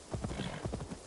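Horse hooves clip-clop in the video game Assassin's Creed Valhalla, a quick, even trotting rhythm of muffled thuds, close and fairly loud, with the steady beat carrying through the whole moment over low background sound.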